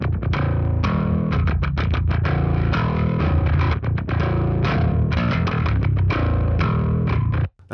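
Heavily distorted rock and metal bass guitar tone processed through a Bogren Bassknob STD plugin with dynamic EQ, played as a dense, driving riff with steady picked notes, loud and upfront throughout, ending abruptly.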